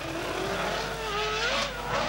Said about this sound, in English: Some of the fastest cars in the world were driven through the streets of Rotterdam recently